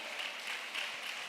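Audience applause continuing at an annual conference panel session, a brief steady wash of many hands clapping, even and moderately distant.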